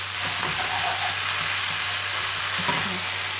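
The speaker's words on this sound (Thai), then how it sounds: "ผัดต่อไปอีกสักพักหนึ่งค่ะ" Wide rice noodles with chicken being stir-fried for pad see ew, a steady close sizzle of frying with soft scraping stirs throughout, no voices.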